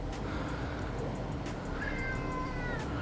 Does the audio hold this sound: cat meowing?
yes